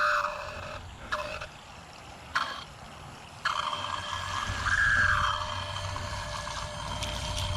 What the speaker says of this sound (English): for the purposes of demonstrating this pump, let's put it in the water. Boy, it's a noisy booger.